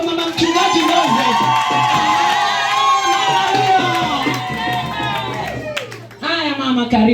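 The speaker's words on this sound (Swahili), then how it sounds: "Hebu nisikie vigelegele kwa mama mchungaji leo." Church congregation at a women's day service ululating and cheering for the pastor's wife, a loud sustained chorus of high trilling voices with clapping and crowd noise that fades toward the end.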